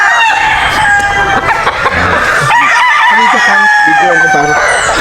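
A gamefowl rooster crows loudly and close by, with repeated harsh cock-a-doodle-doo calls and clucking from other fowl, and voices talk in the background.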